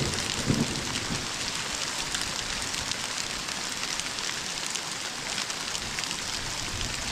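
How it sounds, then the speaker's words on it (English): Small ice pellets falling after hard rain make a steady, dense hiss and patter that stays even and moderately faint throughout, with no voices. "So it stopped raining hard, and now it's just dropping these little ice pellets everywhere."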